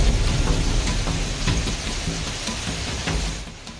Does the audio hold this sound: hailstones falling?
yes